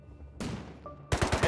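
AK rifle fire in the video game Rust, a short quiet stretch then a sudden burst of a few sharp shots at the end.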